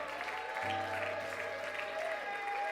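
A church congregation applauds and cheers in a steady, dense wash of clapping throughout, with a sustained tone and a voice over the crowd.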